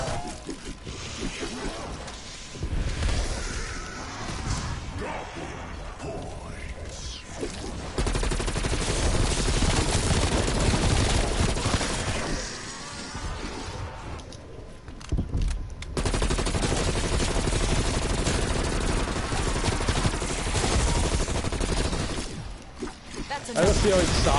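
Sustained gunfire fills a Call of Duty Cold War zombies match, with dense, loud bursts and clattering that barely let up, and voices talking over the din.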